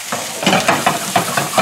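Canned chopped tomatoes being stirred into a hot sizzling pan for shakshuka, with loud steady frying hiss and rhythmic scraping stirs, close up with no talk.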